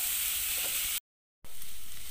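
Onions and vegetables sizzle steadily in a pan as filling for veg momos is cooked, a loud continuous hiss that cuts out briefly to silence before resuming.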